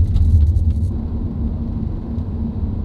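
Audi RS4 B5 with a V6 engine under way, a loud, steady low rumble of engine and road noise throughout, with a few brief higher rattles at the start.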